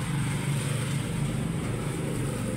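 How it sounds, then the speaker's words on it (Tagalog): Radiator fan on a Raider 150 Fi motorcycle with a faulty temperature sensor whirs nonstop with the key on, a steady close-up drone with no change in pitch or level. "So sigirag tuyok ang iyang fan."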